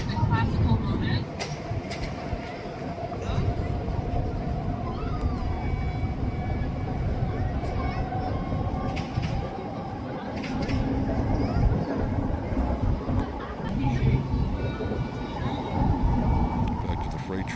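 Intermodal freight train rolling past a rail crossing, a steady rumbling passage with a faint tonal hum, heard at moderate distance beneath intermittent talking and outdoor background noise.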